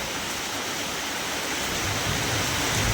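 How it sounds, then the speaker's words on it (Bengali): Heavy rain pours down steadily outdoors, a dense, loud, unbroken wash of hiss with no voices. "সেই আকাশ ভাঙা বৃষ্টি হচ্ছে"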